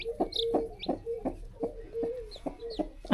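A hen clucks in a steady, low, repeated rhythm beside newly hatched frizzle chicks, whose high thin peeps break in now and then, close and clear.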